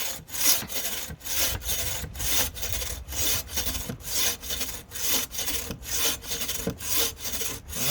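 Steady back-and-forth sawing through firewood, each rasping stroke loud and close in a regular rhythm, with no voices.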